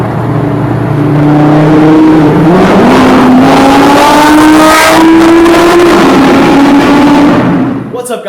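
A supercharged Audi R8 V10 tuned to 750 horsepower accelerating hard nearby, its engine note climbing through rising revs and gear changes, loud and dominant throughout.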